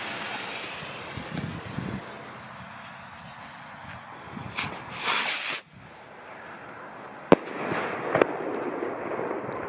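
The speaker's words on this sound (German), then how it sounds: "So, jetzt kommt diese Rakete mit der gelben Kappe." Fireworks rocket with a yellow cap launching outdoors at a New Year's Eve session, a rushing whoosh followed by sharp cracks and pops against wind noise, with no talking.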